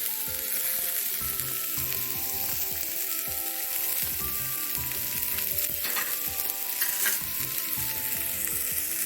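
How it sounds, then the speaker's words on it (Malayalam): Sliced onions frying in coconut oil for a colocasia leaf curry, a continuous crackling sizzle heard close, with occasional spatula scrapes and a low hum beneath, no one speaking. "ഇവിടെ ഉള്ളി നല്ലതുപോലെ മൂത്ത് വന്നിട്ടുണ്ട്."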